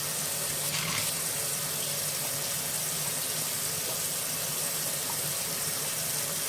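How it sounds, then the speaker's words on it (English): Tap water runs steadily into a kitchen sink while hands are scrubbed underneath, a constant soft rushing wash with no talk. "I'm going to scrub my hands for 20 seconds"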